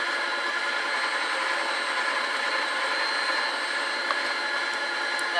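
Sunbeam MixMaster stand mixer (FPSBSM2103) running steadily while mixing cake batter, a loud continuous motor whir with no break across the whole stretch.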